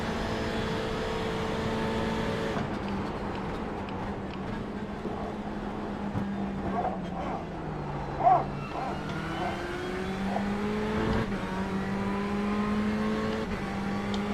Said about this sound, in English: You're gonna have an LMP2 working his way past the lapper behind you.